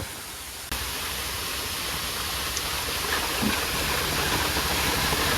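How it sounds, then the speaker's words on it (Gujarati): Water pours heavily at a large cold storage plant, a loud steady broadband rush like a waterfall that starts abruptly and keeps roaring without a break. "પાણી કેટલું પડે છે"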